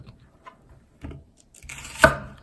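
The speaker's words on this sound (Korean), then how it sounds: "양파는 저는 그냥 이렇게 4분의 1로 딱 이렇게 그냥." A kitchen knife cuts an onion into quarters on a board: two soft early strokes, then one firm, loud chop that lands sharply and stands alone.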